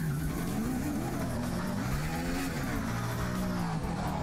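A car driving in the Roblox video game, a continuous droning engine tone that shifts slowly in pitch as it runs on by itself, steady and fairly loud with no talking.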